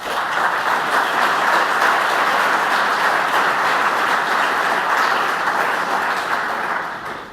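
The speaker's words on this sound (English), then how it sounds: "we can do the applause thing" A conference audience at a Kubernetes cluster operations talk breaks into loud, dense applause. The clapping holds steady for several seconds before tapering off at the end.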